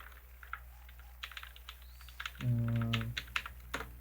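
Java code is typed on a computer keyboard in quiet, uneven bursts of keystrokes with short pauses, and a brief louder hum partway through; no voice is heard.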